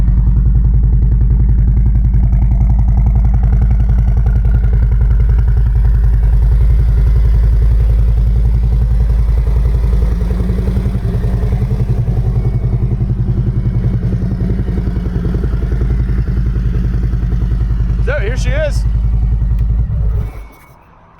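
Close, loud and steady, the engine of a 2017 Harley-Davidson Street Glide Special in Laguna Orange rumbles at idle with a deep, even throb, a brief clatter near the end before it cuts off abruptly.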